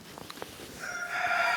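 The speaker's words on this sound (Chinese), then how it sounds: "你看这儿养了一只大公鸡" A big rooster kept at a remote cliffside cave homestead in the Hubei mountains of China crows once near the end, a loud drawn-out call rising over quiet outdoor ambience after a few faint knocks.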